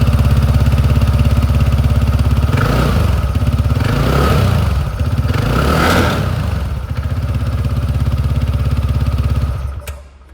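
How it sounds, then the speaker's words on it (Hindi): TVS Ntorq 150 scooter idling with a steady exhaust burble, then several quick throttle blips that rise and fall around the middle before settling back to idle and cutting off at the end; loud and close, with no talk. "जो एग्जॉस्ट साउंड है वो भी मैं आपको सुना देता हूँ"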